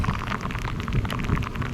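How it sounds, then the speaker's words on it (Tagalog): Steady rain falling during a nighttime motorcycle ride on a dark road in monsoon weather, a dense continuous hiss with wind and engine rumble underneath, no voices. "Nabutan pa tayo ng ulan."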